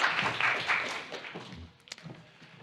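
Audience applause at a futurEU youth competition semi-final rises loudly at first, then thins out and fades to scattered claps and a few taps.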